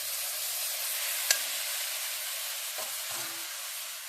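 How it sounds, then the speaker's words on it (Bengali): Hot water poured into rice frying in a pan sets off a steady broad sizzle, with a sharp hiss at one point and a few soft scrapes of stirring near the end; no talking. "এই গরম জলটা দিয়ে দিলাম।"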